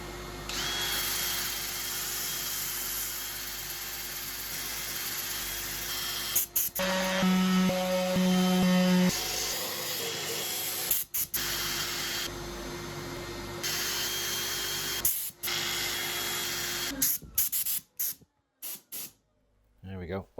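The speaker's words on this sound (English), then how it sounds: "I'm going to set up for sanding" A power sander works across a wood inlay with a loud, steady hiss. The motor pitch shifts midway, and near the end it cuts out and restarts in short bursts.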